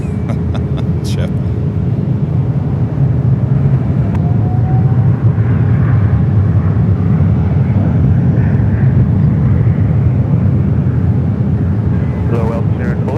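A Star Alliance Boeing 777-200ER taking off at San Francisco airport, a loud, steady broad engine roar sustained throughout, heard from a distance with wind buffeting.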